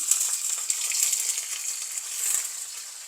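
Chana dal and peanuts fry in hot oil for coconut rice, giving a steady close sizzle with a few faint spoon scrapes in the pan.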